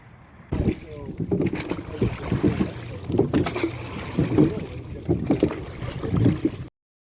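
Oars splash and knock in an uneven rhythm as a crew rows the Civil War ship Constellation's boat through water in Baltimore, one port-side oar out of sync, with wind buffeting the microphone throughout.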